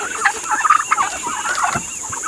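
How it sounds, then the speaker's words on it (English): Growing turkeys on a homestead, kept overcrowded in a small chicken house, gobble and chatter in a quick, warbling series of calls, close and fairly loud. "And those turkeys are getting big."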